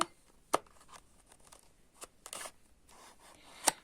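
A gift package from a friend is opened by hand: scattered sharp crinkles, snips and paper tears come in quick separate bursts close to the mic. A louder rip sounds near the end, with no talking.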